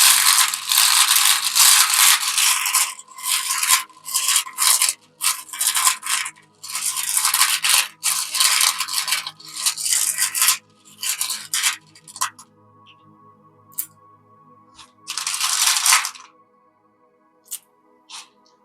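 Runes shuffled by hand for a reading give off clattering, rattling bursts in several loud spells with short pauses between, fading to sparse clicks near the end; no one speaks.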